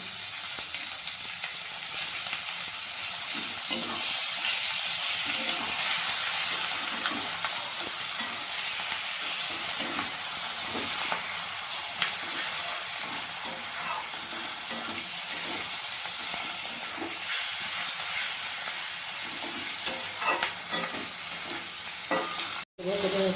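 Chicken skin and onions fry in a pan, a steady close sizzle with stirring scrapes throughout, lasting the whole stretch without speech.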